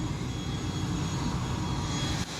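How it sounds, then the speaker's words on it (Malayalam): An IndiGo passenger airplane just landed at the Agatti Island airport in Lakshadweep gives off a steady, loud engine roar and rumble that holds throughout, with a brief dip near the end. "15 പേര് അവരുടെ ഫ്ലൈറ്റ് ലാൻഡ് ചെയ്തു. ഇപ്പോൾ ഹലോ ഇൻഡിഗോ ഫ്ലൈറ്റ്."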